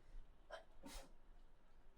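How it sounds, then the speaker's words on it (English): A single sneeze, a quick sharp intake followed by a burst of breathy noise, quiet and close, with no talking. "Oh, I got to sneeze."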